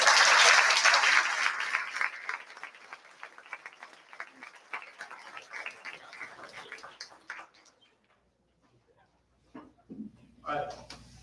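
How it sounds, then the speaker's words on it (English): Audience at a fifth-grade school awards ceremony applauds loudly, then the clapping thins into scattered claps and trails off, followed by a pause and a few voices speaking. "Let's give it an overall applause."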